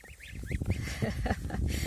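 Several geese honk and cackle close by, overlapping calls in a busy, noisy flock.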